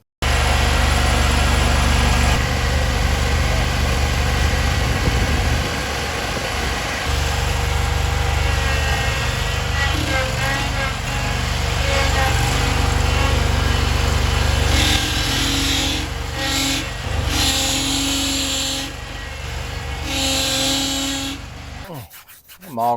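A Scag lawn mower engine runs with its hydraulic drive pump spinning, giving a loud, steady mechanical drone with a rough, rubbing texture that holds for about twenty seconds before cutting off abruptly.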